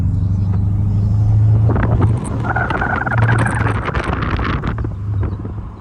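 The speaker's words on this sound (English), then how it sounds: "I gotta ask him what he had done to this exhaust" A 2011 Mercedes SL550 exhaust rumbles low and steady, swelling into a louder throaty roar before settling back, with wind buffeting the microphone.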